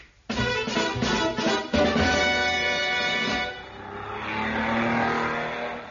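A racing car sound effect in a radio comedy: an engine revs up hard, then roars as it pulls away and fades into a steady, more distant drone. It is loud and heard without speech.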